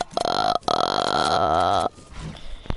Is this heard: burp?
yes